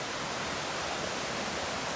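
A little forest waterfall after rain, a steady, full rush of falling water with a constant hiss, heard up close and unbroken with no voices.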